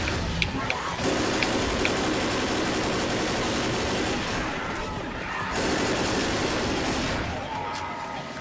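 Rapid gunfire from AI teammates shooting infected in the zombie shooter Left 4 Dead, a dense, continuous barrage of overlapping shots with scattered sharp cracks, filling the whole stretch at steady loudness.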